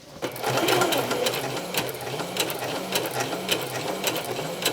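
A Singer Heavy Duty sewing machine runs steadily as fabric feeds through, its needle clattering in a fast even rhythm, close and fairly loud, with no talking.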